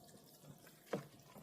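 Brown rice enzyme mixture, swollen grains fermenting in liquid, stirred once, giving a brief wet slosh of liquid near the middle against quiet background.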